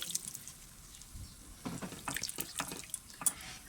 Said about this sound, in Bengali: এটাকে এইভাবে নেড়ে সামান্য জল দিয়ে